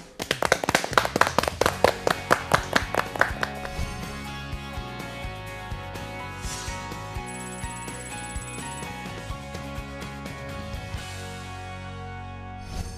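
An audience in a Noryangjin lecture hall claps to welcome a public-administration lecturer. The clapping is brisk and dense for about four seconds, then thins to scattered, fading claps.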